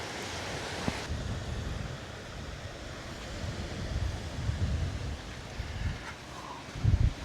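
Surf washes onto a beach at Hua Hin, Thailand, as a faint, continuous roar mixed with wind buffeting the microphone, with a few louder low thumps near the end. No one speaks.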